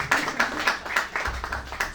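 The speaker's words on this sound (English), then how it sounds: "Another round of applause for Olivia Browning, please." A small audience at a poetry event in the Soma Nami Bookshop applauds a singer, with steady, moderately loud clapping and no talking over it.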